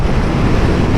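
Strong wind buffeting a motorcycle rider's microphone while riding a Yamaha MT-07, a loud, continuous roaring rush with no break.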